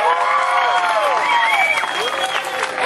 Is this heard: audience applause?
yes